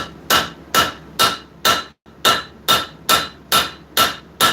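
Steady hammer blows flatten a knife blank being forged on an anvil in a blacksmith shop, about ten sharp ringing strikes at an even rhythm with one brief pause, loud and close with no talking.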